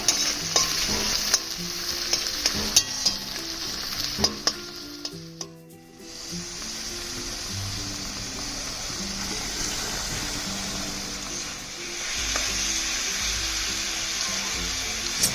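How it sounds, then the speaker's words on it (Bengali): Chopped onion and chili fry in oil in a kadai, a continuous close sizzle broken by repeated scrapes and clinks of a spoon stirring, with a brief lull partway through. "পেঁয়াজ হালকা সোনালি না হওয়া পর্যন্ত ভালোভাবে ভাজতে থাকবেন"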